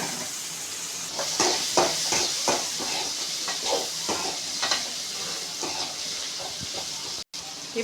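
Green bell pepper and beans sautéing in a pan, a bright continuous sizzle with repeated stirring scrapes and clinks throughout, followed by a sudden brief dropout near the end.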